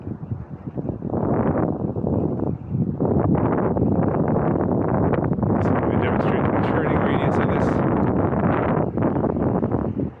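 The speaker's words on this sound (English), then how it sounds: "Hopefully you can hear me over the wind. It's getting pretty windy right now." Steady low wind rumble buffets the microphone throughout while riding an electric scooter, with a person talking underneath the noise.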